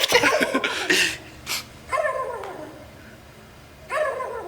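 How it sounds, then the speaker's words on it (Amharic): A small dog yips and barks in short bursts, a few sharp calls with whimpering between, fairly close in a quiet room, with faint voices at the edges. "የእናንተ ቤት ውሻ እንዴት ነበር እንዲህ የሚጮህ?"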